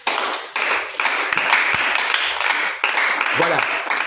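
A church congregation claps in acclaim of the Lord, a dense, steady patter of many hands filling the room with a few sharper accents, while a voice briefly rises underneath.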